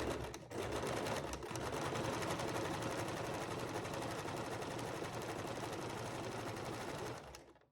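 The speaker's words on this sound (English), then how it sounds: "We're going to sew them together with an 1/8 of an inch seam allowance in the middle." A sewing machine joins two 2-inch fabric strips with an eighth-inch seam, whirring continuously and evenly for about seven seconds at close range, then slowing to a stop.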